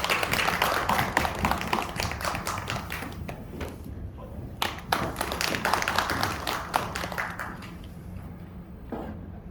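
Audience claps for a university research professor introduced at a lecture hall talk; scattered, irregular hand claps and taps, moderately quiet and thinning out in places, with no talk heard.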